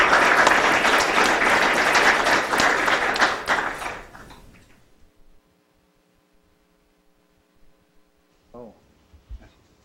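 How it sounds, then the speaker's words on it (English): Audience at a technical presentation breaking into dense, loud applause that tapers off after about four seconds into near silence, followed by a few faint taps and thuds. "Let's provide a round of applause for our presenters today."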